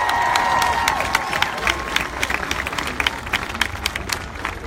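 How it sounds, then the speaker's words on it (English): Applause from a crowd at a women's march rally in Uptown Charlotte, North Carolina, starting as a full outdoor burst of clapping and cheering, then thinning into scattered claps. "Give yourselves a round of applause."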